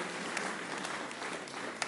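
A congregation claps together in a church service, a steady wash of applause held at an even level from start to finish, with no voices rising above it.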